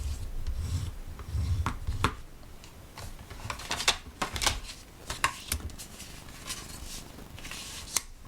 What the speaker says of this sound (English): So let's start with 1, scoring it